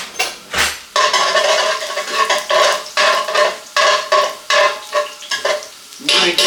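Three garlic cloves sizzle and fry in a pan while being stirred, with loud, close scraping strokes coming in rhythmic bursts and a brief clink of utensil on cookware; no voices.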